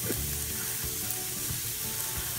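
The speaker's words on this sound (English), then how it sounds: "let's see when the sear comes in" Sous vide pepper steak searing in a hot pan, a constant loud, hissing sizzle close by with small pops and no voices.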